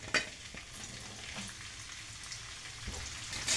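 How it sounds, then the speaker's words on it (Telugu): Broad beans (chikkudukaaya) sizzle steadily in an oil-filled pan while being stirred, with a constant close crackle and occasional scraping stir sounds and no voices. "ఇప్పుడు ఈ చిక్కుడుకాయలు కూడా ఇంకో రెండు ట్రిప్పులో వాయిలో వేసేసుకుంటున్నాను."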